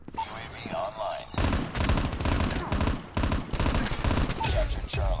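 M16 rifle in Call of Duty Mobile firing in loud, close bursts of rapid shots, broken by short gaps, over game sound effects.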